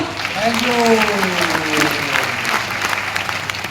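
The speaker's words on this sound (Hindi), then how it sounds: "एक बार जोरदार तालियां।" Loud crowd applause at a family opal anniversary celebration, dense continuous clapping with voices talking and cheering over it.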